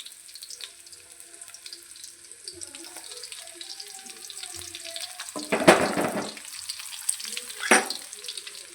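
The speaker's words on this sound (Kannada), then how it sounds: "ಈಗ ಸ್ವಲ್ಪ ಫ್ರೈ ಮಾಡ್ಕೊಳ್ಳಿ." Garlic frying in a pan: a quiet crackling sizzle builds into two louder bursts of scraping and hissing later on, close by with no talk.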